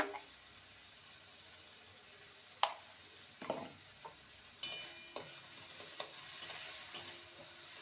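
Spice paste for an egg and potato dhoka curry, with a pinch of sugar added, stirred in a pan: scattered spatula scrapes and soft sizzles, a few sharper clacks around the middle, over a quiet steady background.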